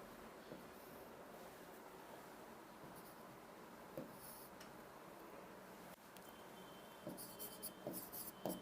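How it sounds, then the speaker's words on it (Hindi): Pen writing out an answer option by hand on paper, steady faint scratching strokes through most of the stretch with a few louder ticks near the end, in a quiet room. "चौथा विकल्प लिख दिया मैंने इसका"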